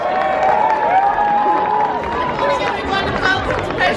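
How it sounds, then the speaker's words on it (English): Crowd at an opening-day ceremony at the Blackpool Pleasure Beach amusement park claps and cheers steadily, with voices and chatter mixed into the applause throughout. "please give a huge round of applause and welcome to the stage the Managing Director"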